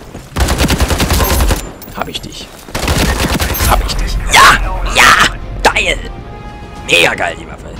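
Bursts of rapid automatic gunfire from a new weapon in the online shooter Ironsight. The shots come in two dense volleys, loud and close, followed by scattered sharper shots, with someone talking excitedly throughout.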